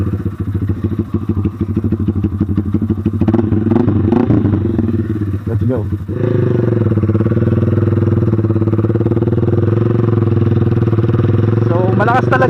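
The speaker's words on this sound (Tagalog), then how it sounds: "So ngayon guys, uwi na tayo no. Malapit lang naman to kasi dito sa amin. So magda-drive tayo ngayon na yung SC project natin is without silencer." A Sigma 250cc sportbike with an SC Project exhaust and no silencer, heard while riding: a loud, steady engine drone with shifting revs and a rise near the end, under a man's speech throughout.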